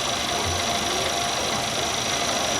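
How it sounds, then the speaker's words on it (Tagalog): A truck engine powering a fairground perya ride in Zamboanga drones steadily, a constant mechanical hum and rattle with a whining tone on top, close and unbroken, with no talk. "Like makina ng truck ang gamit nila."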